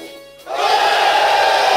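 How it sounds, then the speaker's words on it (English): Game crowd of male classmates cheering together in a classroom scene, a loud sustained roar of voices that bursts in after a quiet moment and holds steady. "guys in the class started cheering up"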